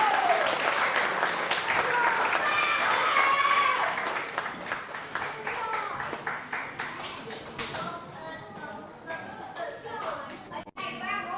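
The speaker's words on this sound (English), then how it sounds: "Could we please give a round of applause for everyone?" An audience at a 2020 school award presentation claps for the students, beginning as loud, dense applause and thinning into scattered, uneven claps, with children's voices mixed in.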